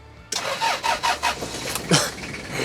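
Engine of an old camper van cranking and catching, then settling into a rough, uneven idle; the start is sudden and fairly close, with pulsing bursts as it fires up.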